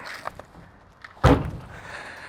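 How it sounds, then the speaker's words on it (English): The rear bumper step on a 2026 Ram 2500 pickup slams back into place with one sharp, loud metallic thud, preceded by faint rattles and handling noises close by. "extreme it is to put it back into place, because it slams back in"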